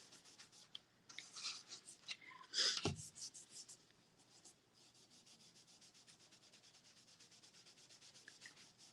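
Dark brown stain is rubbed by hand into a wooden home decor box, making soft, close scuffing strokes that surge briefly, then settle into a quiet, even rubbing.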